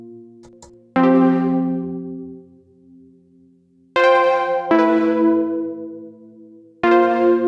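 Synth chords from an Elektron Analog Four struck at intervals through a Collision Devices Black Hole Symmetry pedal in octave-up shimmer mode, each ringing out with a bright, airy reverb tail that shimmers an octave above the notes before fading.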